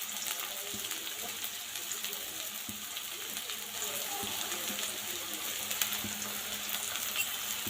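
Chopped onion sautéing with cumin and green chillies in a pan, a soft, steady sizzle with occasional light stirring taps and faint background noise.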